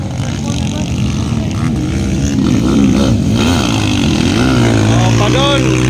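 KLX motocross motorcycles racing in a final at a town fiesta in Bukidnon, engines revving and rising and falling in pitch as bikes pass, under loud continuous commentary from an announcer.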